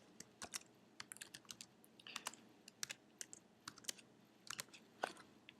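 Quick, irregular clatter of keys on a computer keyboard as full Bible references are typed into a reference field, fairly close and quiet, in bursts with short pauses and no talking.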